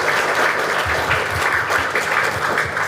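Audience applause in a church retreat hall in Pulpally, Kerala, welcoming a priest: steady, dense clapping from a sizable congregation with some low thumps underneath.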